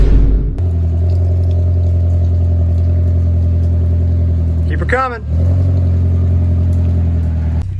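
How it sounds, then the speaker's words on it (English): Engine of a 2001 VW Golf GTI GLS fitted with a new custom exhaust, idling with a steady deep low rumble on a first test drive, loud and close, with a voice briefly speaking over it. "Okay, so first test drive with the new exhaust."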